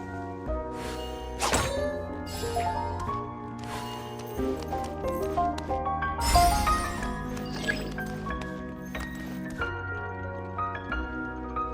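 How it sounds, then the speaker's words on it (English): Wooden boxes are smashed in Genshin Impact, heard as a string of hollow thunks and clattering knocks over a bed of tonal game music, with two louder crashing bursts standing out. "Can't you destroy the boxes a little more quietly?"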